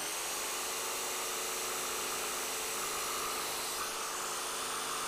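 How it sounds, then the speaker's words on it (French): A jigsaw cuts along the outline of a design while making a paint filter, giving a continuous, steady, buzzing whine that holds at an even level from start to finish. "Sciez le contour de votre conception avec une scie sauteuse."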